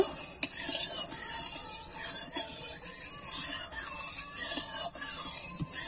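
A utensil scrapes and stirs heated oil and ghee in a pan, with a soft continuous sizzle and occasional clinks of metal, close and steady throughout.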